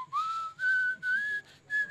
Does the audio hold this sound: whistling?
yes